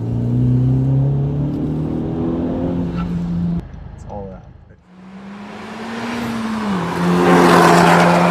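A tuned Honda Civic Type R FK8 with a 400 bhp ECU tune and cat delete drones loudly at steady revs, dips briefly, then climbs again with a rising, raspy exhaust note; voices talk over it.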